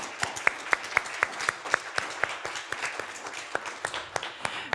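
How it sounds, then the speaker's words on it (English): Applause from the audience at a literary reading event, a steady run of distinct, fairly close handclaps over a light background wash that keeps going throughout. "the audience here perhaps could do another round of applause"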